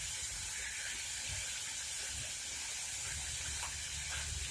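A Toscana sausage roasting in a pan with no oil gives off a constant, even hiss and faint crackle, close and unbroken with no talking.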